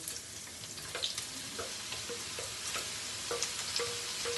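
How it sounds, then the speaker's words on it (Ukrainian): Chopped green onion frying with lard in a pan, a steady close sizzle with occasional crackles and soft stirring scrapes, no voices. "Помішуючи, смажимо все разом до м'якості."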